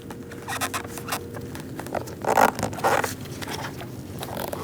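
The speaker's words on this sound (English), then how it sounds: "Tighten up our zip tie." A plastic zip tie ratchets tight around a wire during cooling fan assembly replacement on a 2000–2006 Mini Cooper 1.6L, a quick series of close, rasping zipper-like clicks in short bursts with no talking.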